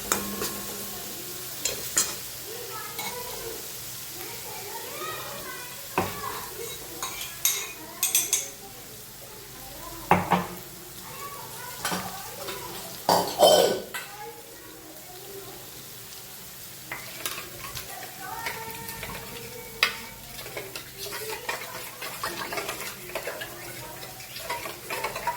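Onions frying and being stirred in a pan, with a steady sizzle under repeated scrapes and clinks of a spoon against the metal, close by and continuous throughout, with no talking.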